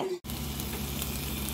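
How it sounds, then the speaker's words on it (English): Stir fry sizzles steadily in a hot pan, a dense continuous crackle right up close after a brief pause at the start, with no talking. "We gonna make some stir fry right now."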